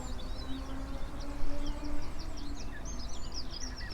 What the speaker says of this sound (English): you can hear the birds singing around you.